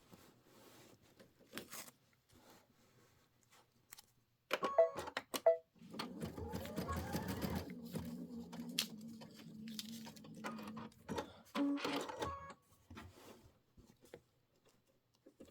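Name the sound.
embroidery sewing machine stitching bats onto fabric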